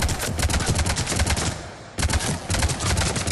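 An Avenger assault rifle in Mass Effect 3 fires loud, rapid automatic bursts, pauses briefly, then resumes its fast, steady stream of shots.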